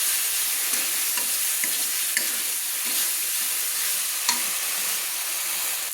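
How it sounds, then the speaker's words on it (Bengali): Spice masala with half a spoon each of turmeric and salt, stir-fried in oil for a sour fish curry with potato, cauliflower and eggplant, sizzling continuously up close while a spatula scrapes the pan now and then. "দিয়ে ভালো করে আমি মশলাটা কষিয়ে নিচ্ছি"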